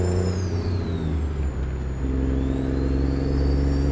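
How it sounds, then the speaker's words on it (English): A Western Star 5700XE truck engine idles in American Truck Simulator, a steady, loud low drone heard with the windows down, with no speech. "Got the windows down so I can hear the engine"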